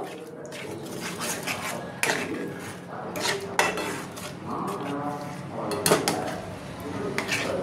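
Turmeric and chilli powder are stirred in a pan for a Bengali-style rohu fish and poppy seed dish. A metal spoon scrapes and clinks against the pan close by in irregular bursts, with light kitchen clatter between.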